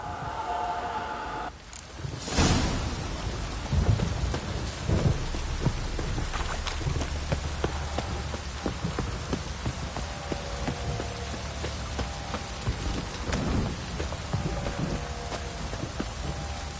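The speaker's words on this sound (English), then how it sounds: "downpour's a bastard, it is." Heavy downpour with rolling thunder in The Witcher 3, a steady dense hiss of rain broken by a loud crack of thunder early on and low rumbles later, with faint hoofbeats and no talk.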